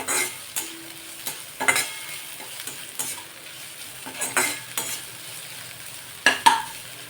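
Vegetables and rice for veg fried rice are sautéed and stirred in a pan, with a soft steady sizzle and intermittent scraping spoon strokes against the metal, close up.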